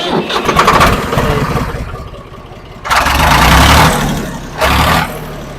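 A tractor's self-starter cranks and the engine catches, with repeated loud bursts of cranking and firing separated by brief quieter idling, heard close up at a tractor market.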